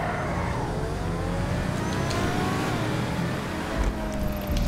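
A car in GTA Online drives and accelerates, its engine note climbing steadily in a continuous rev with whirring road noise, loud and close, with no talk over it.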